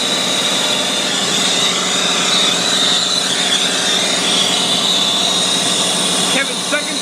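A brazing torch hisses steadily and loudly throughout while a compressor is replaced on a York heat pump, a continuous flame roar with a faint whistling tone and a few clicks near the end.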